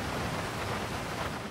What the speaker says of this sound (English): Oh, it's raining?